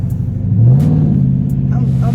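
A 2021 widebody Dodge Charger 392 Scat Pack with a HEMI V8 and a new pedal box gives a light throttle blip, its deep exhaust note rising briefly and then settling into a steady, loud rumble close by.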